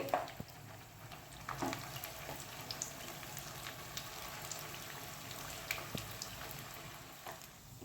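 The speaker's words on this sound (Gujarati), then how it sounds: "અને હવે આપણે બાકીના વડાને બી તળી લઈએ." Methi and poha vadas fry in oil with a soft, steady bubbling hiss and scattered small crackles, quiet and close, with no talk.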